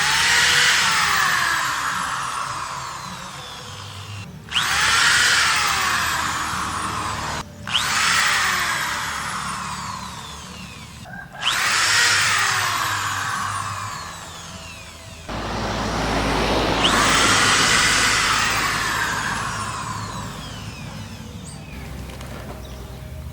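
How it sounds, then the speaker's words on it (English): A power drill fitted with a 3/16 bit bores holes into an irrigation line beside young bamboo, whirring in four or five separate bursts of several seconds each, with short pauses between them, close and moderately loud. "I'm going to drill some holes right here where this baby bamboo is"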